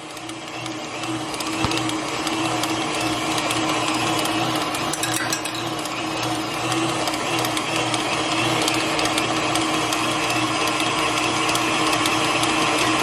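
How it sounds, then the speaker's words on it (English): An electric mixer blends 7-Up pound cake batter of flour and soda in a bowl, a loud, steady whirring motor with buzzing mechanical overtones running continuously up close and alone. "And we're just blending it all together."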